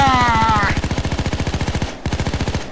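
Rapid automatic gunfire in the video game PAYDAY 2, a loud, continuous burst of evenly spaced shots lasting a couple of seconds, with a brief break near the end before firing resumes.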